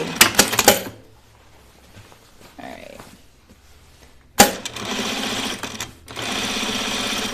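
A sewing machine runs a short burst, then falls quiet amid faint handling sounds before starting again for a longer, steady stretch of stitching along the pocket opening of pajama bottoms, with one brief pause.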